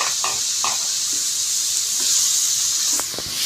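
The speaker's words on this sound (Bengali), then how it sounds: "এর পর্যায়ে আমি এখানে দিয়ে দিচ্ছি পেঁয়াজ কুচি 1 বাটি" Chopped onion going into a hot, oily pan for samosa filling, giving a steady bright sizzle with a few soft utensil clinks and scrapes near the end, no voices.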